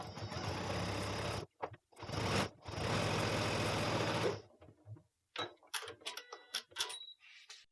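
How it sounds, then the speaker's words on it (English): A sewing machine runs in fast mechanical bursts, stitching quilt foundation-piecing fabric a quarter inch from raw edges for a few seconds, pausing, then starting again with shorter stop-start runs nearby. "now I can take this to my sewing machine and sew these"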